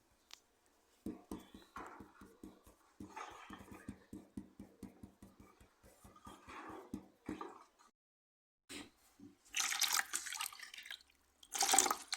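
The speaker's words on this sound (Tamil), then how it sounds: "அது கொஞ்சம் தண்ணியாச்சும் ஊற்றுவோம்" Water is poured onto plants in a quiet space: a steady run of soft regular drips and trickles, then louder splashing as the flow hits the ground.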